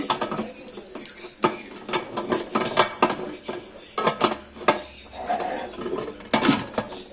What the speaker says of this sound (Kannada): ಕುಕ್ಕರ್ ಮುಚ್ಚಳನ ಹೀಗೆ ಮುಚ್ಚಿ